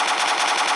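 Rapid automatic fire from a G3 rifle in a Minecraft PE gun mod, a dense, loud, unbroken burst of shots lasting under a second with no pauses.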